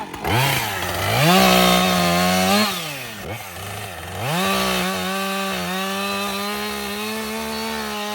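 A chainsaw runs close by, its engine revving up and easing down several times before settling into a steady, high whine.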